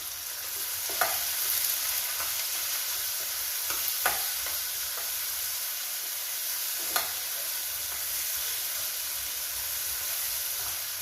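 Onions sautéing with salt in a hot pan give off a loud, continuous sizzle and hiss, close by, with a few soft stirring scrapes now and then and no voices.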